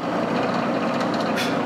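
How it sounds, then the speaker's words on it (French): A drill bores holes through cut wooden strips set against a stop, giving a steady, close, continuous grinding whir with a brief brighter rasp near the end. "Maintenant, je peux percer tous les trous des languettes que j'ai coupés."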